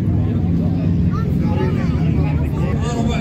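Sports motorcycles ride past at a bikers' gathering in Qatar, their engines a continuous rumbling drone mixed with the chatter of a surrounding crowd.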